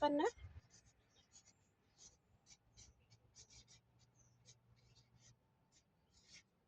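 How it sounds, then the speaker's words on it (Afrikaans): Pen writing a date onto a plant label while planting Swiss chard in a garden, a soft scratchy scribble in short bursts close by, with a low background hum. "Ek moet skryf dit vinnig."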